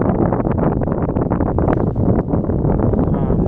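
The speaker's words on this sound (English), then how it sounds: "I get these little gusts here every now and then." Heavy wind buffets the microphone in constant rumbling gusts, loud and close, with no other sound standing out.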